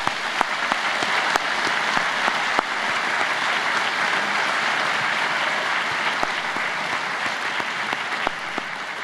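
An audience at an alumni seminar day welcome applauds a 100-year-old alumnus with steady, sustained clapping from a full room that carries on evenly throughout.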